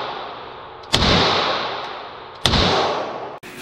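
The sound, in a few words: gunshots from HK VP9L pistol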